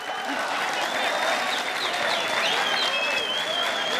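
A concert audience at a festive holiday show applauds, dense continuous clapping with a few whistles and cheers across the whole stretch, loud and close.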